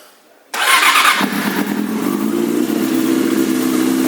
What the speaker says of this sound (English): the bike fires right up and runs really well